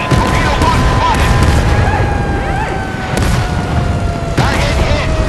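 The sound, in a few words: naval ship guns firing in Force of Warships video game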